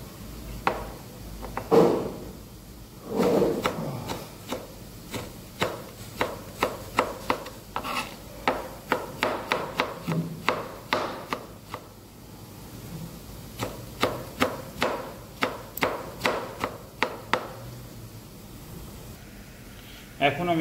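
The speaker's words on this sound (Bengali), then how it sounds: "টমেটো ফাইন চপ করে নেব।" Tomato being finely chopped with a knife on a board for a paneer curry, a long run of quick, crisp chops in steady bursts, close and clear.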